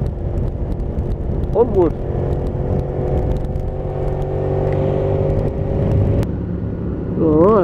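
A motorcycle cruises along a country road on a foggy, chilly morning, its engine a steady close drone throughout while someone talks over it.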